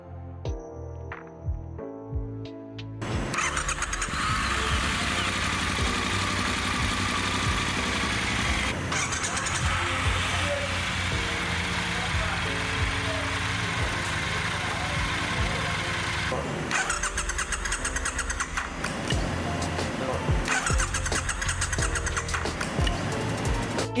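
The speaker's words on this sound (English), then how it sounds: "A good starter is one that can crank the engine quickly and decisively on the first attempt." A Triumph Bonneville motorcycle engine cranks and fires up, then runs in a steady, rumbling idle with brief revving changes, fairly close.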